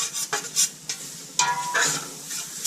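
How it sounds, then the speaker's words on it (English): Onion, bell pepper, celery and garlic cook down in a roux for gumbo, with soft sizzling broken by several close stirring and scraping strokes against the pot. "onion, the bell pepper, the celery, and the garlic to this. And cook it down just a little bit."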